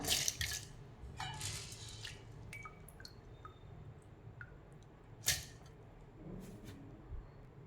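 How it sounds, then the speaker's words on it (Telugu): Water is added bit by bit to jowar grains in a mixer jar, giving scattered close drips and small splashes with soft wet squishes between quiet gaps. "ఇప్పుడు ఇల్లు కూడా కొద్ది కొద్దిగా వాటర్ వేసుకుంటా"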